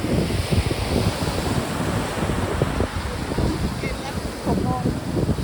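Sea waves and strong wind on the Danish coast, a continuous broadband roar of surf and gusting wind buffeting the microphone, loud and steady throughout.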